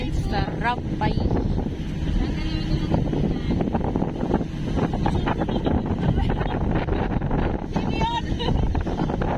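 Steady wind buffets the microphone while riding along a rural road, a continuous low roar under a passing vehicle's hum, with people chatting over it throughout.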